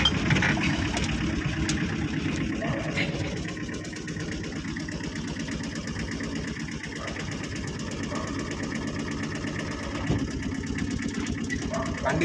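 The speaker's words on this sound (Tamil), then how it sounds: "வண்டி செகண்ட் கீரில் மூவ் ஆகுது." A Tata Ace HT small truck engine runs steadily in second gear with a low rumbling drone, moving at a modest pace, with faint voices in the background.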